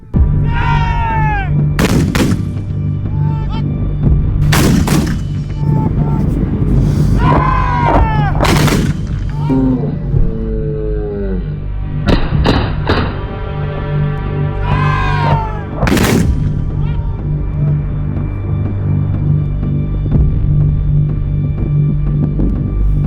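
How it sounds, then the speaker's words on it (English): Mortar rounds fired at dusk in an Indian Army artillery display, several sharp booming launches spaced irregularly over a constant loud rumble, with whistling tones in between. "Darkness is approaching, but the firing continues almost in moonlight."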